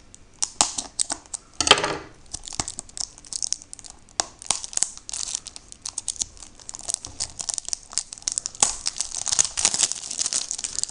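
Packaging of a PS Vita download card being opened close up: crinkling, tearing and crackling of paper and plastic in irregular bursts, with sharp clicks and rustles running throughout, no voices.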